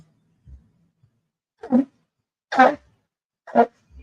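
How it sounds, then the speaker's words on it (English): A person blowing their nose in a few short, close, snorting bursts with quiet pauses between them, plus soft sniffs at the start and end. "Excuse me while I blow my nose."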